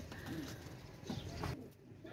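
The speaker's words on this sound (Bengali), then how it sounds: "দেখেন কবুতরগুলো দেখেন, কালদম দুটোই মাদি।" Pigeons, a pair of black-tailed female fancy teddy pigeons, giving soft low coos a few times over faint background noise.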